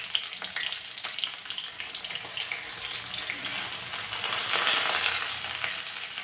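Chopped garlic and green chilies fry steadily in hot oil, a continuous close crackling sizzle that swells slightly toward the end, with no voices.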